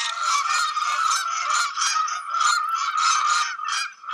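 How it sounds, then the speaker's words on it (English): Canada geese outdoors honk loudly in overlapping bursts, a near flock calling continuously with rhythmic rises and dips and no pause. "the geese, the Canadian geese, 8-pound animal"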